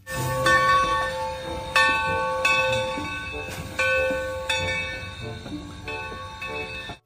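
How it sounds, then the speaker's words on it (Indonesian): A toy Thomas train runs with bright electronic chimes and bell-like tones, broken by a few clicks and clunks. The sound is moderately loud and close, with no voices. "Kereta Thomas."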